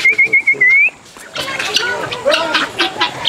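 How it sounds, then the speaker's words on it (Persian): A horned fowl chirps, opening with a quick wavering whistled trill that rises at the end, followed by a busier stretch of scattered chirps over rustling background noise. "این داره چهچه میزنه ها، خوشحالی میکنه"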